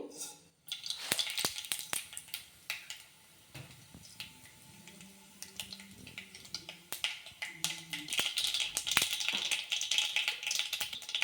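Mustard seeds dropped into hot oil for tempering crackle and pop close by, with scattered sharp snaps that grow denser toward the end, mixed with light clinks of a spoon against the pan.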